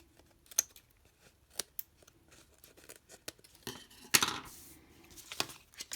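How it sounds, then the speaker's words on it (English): Scissors trimming the overhanging paper pieces of a floating pop-up card, heard as sparse close snips and small taps on a table, with a brief louder rustle near the end. "Then you can just take your scissors and trim the pieces that are hanging over."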